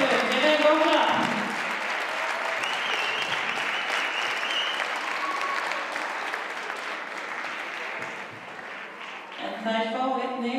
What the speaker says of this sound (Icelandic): Til hamingju stelpur, gefið gott klapp.